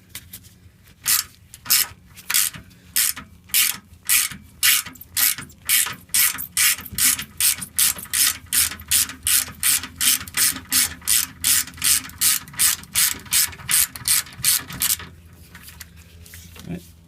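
A hand ratchet works sway bar bolts loose under a GMC Savana van, making a long, loud, rhythmic run of clicking strokes, each a short burst of ratcheting, that continues steadily before stopping.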